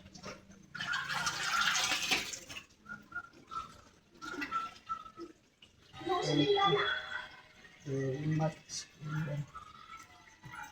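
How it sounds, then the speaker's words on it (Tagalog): Water runs from an opened tap beside a washing machine during home laundry, a brief hissing rush that fades under steady conversation. "Okay, buksan mo nga ang gripo, Gian."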